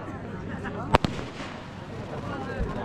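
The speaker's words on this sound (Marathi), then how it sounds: "फटाके खूप फुटून राहिले मित्र" Firecrackers burst during Diwali Lakshmi puja at a crowded Balumama devotees' camp in Shelu, Pune: two sharp, loud cracks in quick succession over a steady background murmur of crowd noise.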